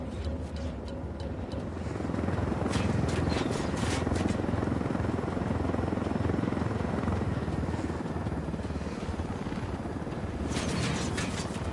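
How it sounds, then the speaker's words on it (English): Military helicopters in the video game Ghost Recon Wildlands, a steady loud rotor drone holding throughout, with brief sharp bursts of gunfire cutting in at intervals. "Let's take these choppers out."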